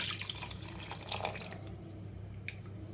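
Water from a glass trickling and dripping into a cooking pot holding green chilli, jaggery and tamarind for a drumstick charu, faint and close, with no talking.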